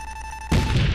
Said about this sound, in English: Here comes the javelin.